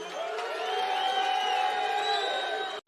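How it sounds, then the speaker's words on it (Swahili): A large crowd at a political rally in Kisumu claps and cheers continuously, a dense, loud wash of applause and shouts that holds steady throughout before cutting off abruptly at the very end. "pigeni makofi"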